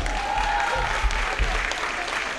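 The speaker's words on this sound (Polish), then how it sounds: "Wielkie brawa dla niego," Crowd applause for player number 27, Patryk, at a Seahawks American football game, a steady broad clatter of clapping with low rumble throughout.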